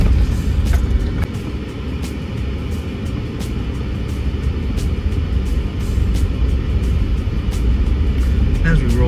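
Car rolling down a bumpy road at Crooked River Ranch in Central Oregon, heard from inside as a steady, loud low rumble of engine and tires with small thumps and jolts throughout.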